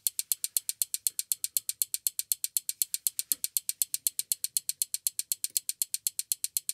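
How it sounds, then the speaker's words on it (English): A relay computer clock drives its relays at 4 Hz, producing a fast, perfectly even train of sharp mechanical clicks, loud and close with nothing else heard. "it pains me to make the relays run that hard"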